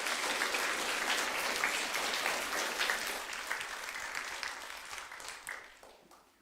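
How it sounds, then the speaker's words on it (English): A school assembly audience applauds students, a burst of dense clapping that starts strong and gradually thins and fades over several seconds. "Could we please give these students a round of applause?"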